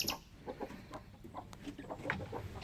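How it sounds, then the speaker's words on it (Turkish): Village hens clucking in short, irregular bursts at close range, with soft rustling and farmyard background noise throughout. "Bu tavuk niye pek pek ses yapıyor"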